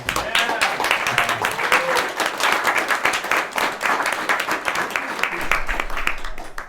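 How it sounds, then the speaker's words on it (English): An audience at a Web3 gaming panel event applauds the panelists, a sustained round of dense clapping from a moderate-sized crowd lasting several seconds. "If I could just get a quick round of applause for the panelists and their time."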